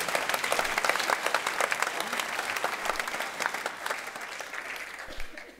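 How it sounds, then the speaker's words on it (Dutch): A benefit gala audience breaks into dense, lively applause that starts strong and gradually thins and fades toward the end. "geef hem nog applaus"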